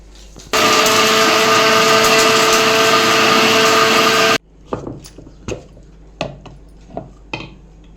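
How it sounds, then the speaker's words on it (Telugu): An electric mixer grinder whirs loudly and steadily for about four seconds as it grinds fried dry chillies, urad dal and coriander seeds, then stops abruptly, followed by several sharp clinks and knocks of the jar and utensils. "ఎండిమిర్చి అన్నీ ఫ్రై చేసుకున్నాం కదా మినుములు ధనియాలు అవన్నీ ఇప్పుడు మిక్సీ పడతాను"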